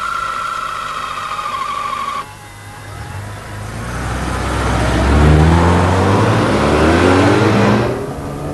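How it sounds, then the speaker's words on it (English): A Mazda RX-7 rotary engine revving freely, its pitch climbing and falling in sweeping waves with a sporty exhaust note, loud and close, after a brief steadier engine hum at the start. "The rotary engine revs extremely freely and has quite a nice sport and exhaust note"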